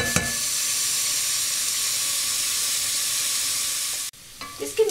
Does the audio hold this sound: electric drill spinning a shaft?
no